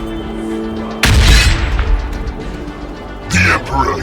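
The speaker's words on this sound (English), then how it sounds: "Throwing grenade!" A grenade explosion in the Warhammer 40k: Battlesector video game bursts out as a single loud, sudden boom, followed by a rumbling tail and a second sharper blast near the end, with voices speaking over it.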